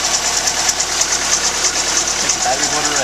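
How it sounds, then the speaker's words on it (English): A 1985 Chrysler LeBaron Turbo sedan engine idles smoothly with a steady, even hum and faint ticking, heard close and loud under a voice speaking. "You got a solid motor that runs smooth."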